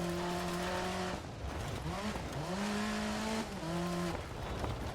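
A rally car in DiRT Rally 2.0 on a Polish stage revs hard through its gears, engine pitch climbing and dropping between shifts, with tyre and gravel noise underneath, loud and continuous.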